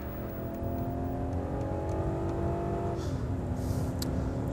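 BMW car heading toward the autobahn, heard from inside as a steady engine drone with a faint whine that drops in pitch partway through, over constant road rumble, moderately quiet.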